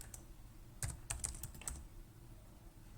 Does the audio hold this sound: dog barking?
no